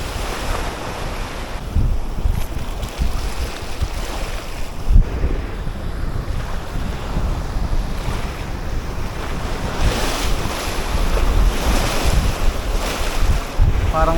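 Heavy sea waves crash and surge along a shoreline during monsoon-season shore fishing, a continuous loud roar of surf with wind buffeting the microphone and swells building louder toward the end.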